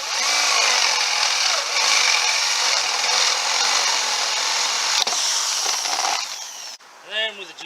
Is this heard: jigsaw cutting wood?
yes